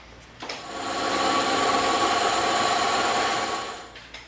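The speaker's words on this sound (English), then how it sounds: "We're going to cut the 12 and the 18mm out on the bandsaw." A bandsaw cuts through 12 mm and 18 mm EVA foam for a prop pistol, its motor rising into a steady, loud whirring hum for a few seconds before winding down, with no talking.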